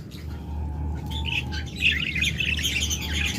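Caged lovebirds at a bird sale chirp and squawk in quick, overlapping bursts, fairly near, over a low steady background hum.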